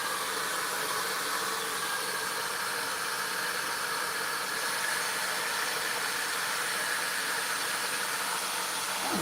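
Hair dryer running continuously, a loud even whooshing hiss with a steady motor whine and no pauses.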